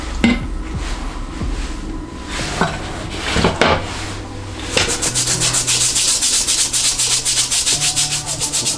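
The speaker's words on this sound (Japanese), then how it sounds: "ちょっとこれジェイソンマークでこのソール部分どこまで落ちるかちょっとやっていきたいと思います。" Brushing and scrubbing on the sole of a Red Wing Oxford 9894 leather shoe with Jason Markk cleaner: scattered strokes at first, then steady, rapid back-and-forth rubbing, close and fairly loud, with no talk.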